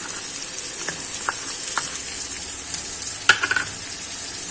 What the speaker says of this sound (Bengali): পেঁয়াজটা ততক্ষণ ভাজতে হবে যতক্ষণ কাঁচা গন্ধটা না যায়